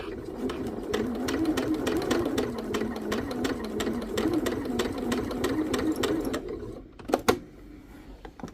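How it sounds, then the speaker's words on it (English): A sewing machine stitches log cabin quilt block pieces with a quarter-inch seam allowance, its steady close rattle running for about six seconds before stopping, then a few brief clicks and handling sounds. "let's sew these two together."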